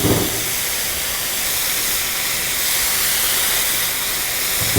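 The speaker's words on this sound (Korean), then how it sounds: "볶음 요리를 할 때는 이렇게 소리를 내시면 되겠어요." Burdock root stir-frying in oil for japchae, a steady, loud, close sizzle and hiss that continues without a break, with no voices over it.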